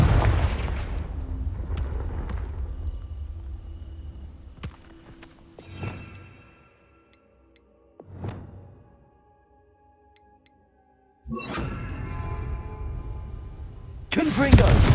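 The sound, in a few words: Confringo fire spell blasts in video game Hogwarts Legacy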